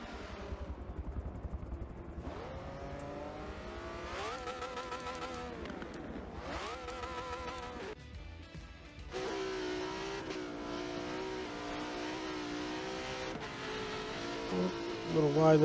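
Race cars in a Pirelli World Challenge SprintX event at Lime Rock sweep down the front stretch, engines rising and falling in pitch as they pass, with a commentator talking over the loud, continuous engine roar.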